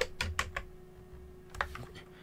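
Keys clack on a computer keyboard while code is typed in Visual Studio for C programming, a few quick bursts of close, crisp keystrokes separated by short pauses.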